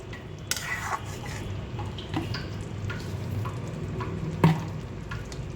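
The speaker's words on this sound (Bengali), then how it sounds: "হালকা হাতে আমি মিশিয়ে নিলাম মশলা মিশিয়ে আমি আর পাঁচ মিনিটের মতো এটা হাই হিটে জাল দিয়ে নেব" Spices being stirred into sweet mango pickle in a pan, with soft, scattered scraping and clinking of a utensil over a low steady background, one sharper knock near the end.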